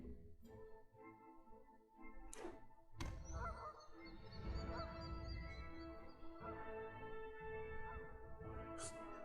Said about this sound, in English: I like that Castle Ardenvale makes a goose sound effect.